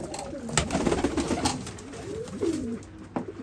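Soft cooing of domestic pigeons inside a coop, several low throaty coos overlapping in irregular bursts against faint rustling, fairly close and moderately quiet.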